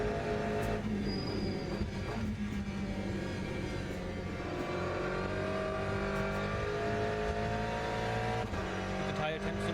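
A race car accelerates hard out of the Parabolica corner in a Le Mans racing video game, its engine climbing steadily in pitch through the gears, loud and close, with someone talking over it.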